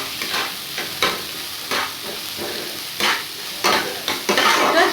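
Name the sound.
onions frying and being stirred in a pan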